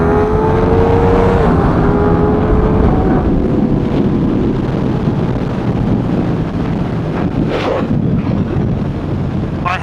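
A Ducati Diavel V4 motorcycle accelerates hard at full throttle in second gear, a loud sustained engine roar with a rising pitch sweep early on, heavily buffeted by wind noise across the whole stretch.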